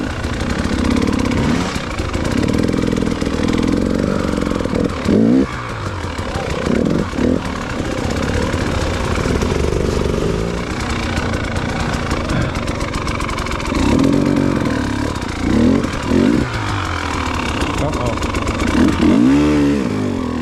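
Off-road motorcycle grinding over a rough dirt singletrack trail, its engine revving and surging continuously for twenty seconds with bumps and throttle bursts, close and loud throughout.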